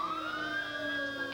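An Orange County Fire Authority fire engine, Engine 219, sounds its siren at a Fourth of July parade in Lake Forest, California, a sustained wail that slowly rises and holds, clear and fairly close.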